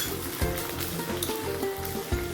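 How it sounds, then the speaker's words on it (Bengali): Whole spices, cardamom, cinnamon and cloves, sizzle steadily in hot oil in a pan, a close, dense crackle with small pops and faint stirring clicks. "গরম মশলা, এলাচ, দারচিনি, লবঙ্গ সব দিয়ে দিলাম একসাথে।"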